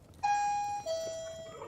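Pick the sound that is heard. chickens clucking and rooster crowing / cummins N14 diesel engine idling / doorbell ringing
doorbell ringing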